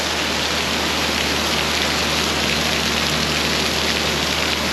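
Heavy rain pours down steadily during a storm over farm fields, a dense, loud, unbroken hiss of falling water with no voices.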